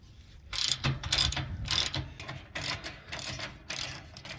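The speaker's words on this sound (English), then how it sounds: "Simple 3/4 inch ratchet." Close, quiet clicking of a 3/4 inch ratchet tightening the nuts on an anti-rattle hitch clamp, about eight quick ratcheting bursts in an uneven rhythm.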